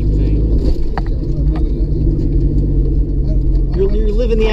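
A Jeep rides offroad, its engine rumbling low and steady up close with bumps and rattles, while people talk over it throughout.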